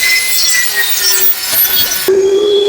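A table saw with its blade tilted to 45 degrees rips a wooden board for a floating shelf, giving a loud, steady broadband cutting roar for nearly three seconds, then a sustained motor hum as the blade runs free.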